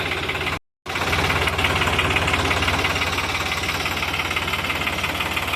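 A tractor engine runs while hauling a load of fodder stalks home, a loud, steady, knocking diesel idle chug that continues throughout, broken by one brief dropout near the start.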